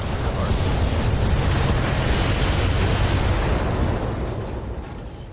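Lasers fire in the BattleTech game as a sustained, loud, roaring burst of blast noise that holds steady for several seconds and then fades toward the end.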